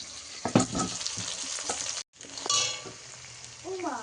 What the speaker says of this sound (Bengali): একটু কালো জিরে দিয়েছি, একটু তেজপাতা দিয়েছি